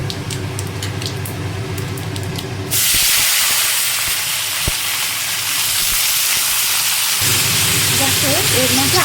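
Jackfruit pieces dropped into hot frying oil with cumin, dry chilli and bay leaf burst into a loud, steady sizzle that starts abruptly and holds for several seconds, easing slightly near the end.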